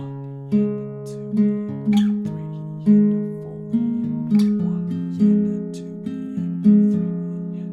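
Acoustic guitar fingerpicked in a gentle repeating pattern, each bass pluck ringing under lighter melody notes, played alone and up close.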